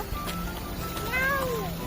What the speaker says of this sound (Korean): 야옹이.